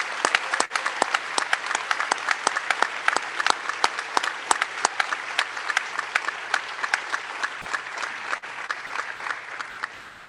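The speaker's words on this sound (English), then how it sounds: "Please join me in a round of applause for these new advanced practice nurses." At a university college of nursing recognition ceremony, the audience applauds newly graduated advanced practice nurses, sustained moderate applause with distinct individual claps popping out in a steady rhythm over ten seconds, gradually thinning at the close.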